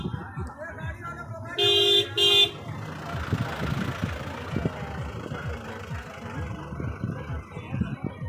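A vehicle pulls up at an outdoor gathering and sounds its horn in two short, loud honks, while crowd noise and talk carry on beneath the engine.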